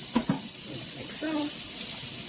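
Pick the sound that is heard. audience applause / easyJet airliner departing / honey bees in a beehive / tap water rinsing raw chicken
tap water rinsing raw chicken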